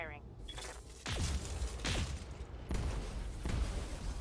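Mech weapons fire in the BattleTech video game, a series of heavy booming impacts and blasts layered over a rumbling mechanical backdrop, with a voice talking over parts of it.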